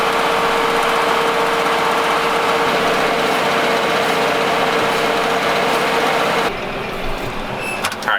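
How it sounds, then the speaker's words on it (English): Tractor engine running steadily nearby as it drives out through the Iowa countryside toward a hunting blind, a loud continuous rumble with a high whine that drops in volume near the end. "Sneaking back out on the tractor."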